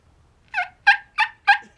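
A hand-held turkey call imitates a hen's yelp: four quick, raspy notes in an even rhythm, close and clear against silence.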